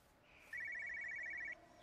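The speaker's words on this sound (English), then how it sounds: "I hear a phone." A telephone rings once in the video game Everybody's Gone to the Rapture, a single one-second burst of rapid electronic trilling, clear but fairly quiet against a faint ambient background.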